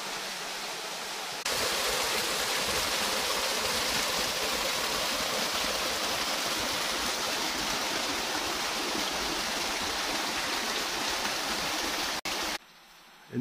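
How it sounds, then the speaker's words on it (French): A small stream, the Corbille in Fort-Moville, Eure, rushes steadily, a dense close wash of flowing water that starts abruptly and cuts off near the end. "un tout petit ruisseau"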